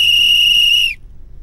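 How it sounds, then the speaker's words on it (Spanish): A single sharp whistle blast in a cartoon, bright and steady for just under a second before cutting off sharply, leaving quiet background behind it. "De repente, todos escuchan un silbato"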